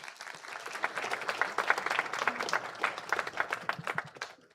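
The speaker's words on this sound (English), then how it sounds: "So another round of applause, pretty please." A church congregation gives a short round of applause during a Sunday service, moderately distant, with uneven clapping that swells and then thins out over a few seconds.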